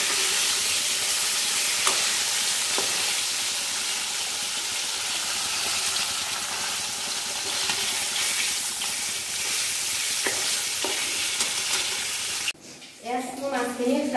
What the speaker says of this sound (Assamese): মই মাছখিনি ফ্ৰাই কৰি আছোঁ।